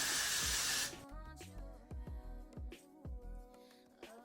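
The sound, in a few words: hairspray being sprayed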